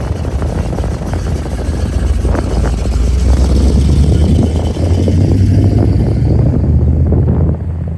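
An old military Ural truck engine runs with a loud, steady low rumble that holds throughout, heard from inside the cab with wind noise and no clear talking.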